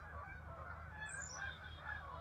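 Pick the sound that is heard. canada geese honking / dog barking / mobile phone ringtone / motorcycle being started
canada geese honking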